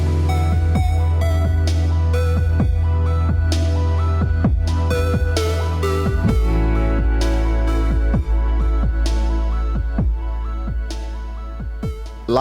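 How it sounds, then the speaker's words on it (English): Terraria Calamity soundtrack music with a flanger effect, loud driving rock-style track with heavy bass, sweeping swirling tones and punchy repeated hits, no voices. "We got the flanger that makes it sound like this psychedelic sound."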